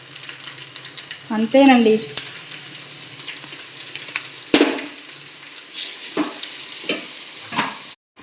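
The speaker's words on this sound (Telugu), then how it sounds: "మనం ముందుగా తీసుకున్న ఈ చట్నీని తాలింపులో వేసుకోవాలండి." Sesame-peanut chutney tipped into a hot tempering sizzles and crackles loudly near the mic, then settles into a steady fry with occasional stirring clatter and brief spoken words over it.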